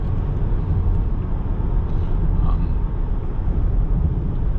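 Steady low rumble of road and wind noise inside a 2019 Land Rover Discovery Sport HSE cabin while driving, a constant even hum with no talk.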